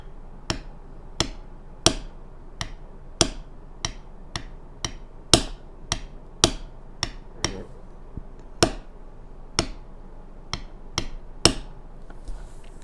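A mallet taps a leather beveling tool in a run of about twenty sharp, close strikes, irregularly spaced and varying in force, some noticeably harder than others, with no talk over them.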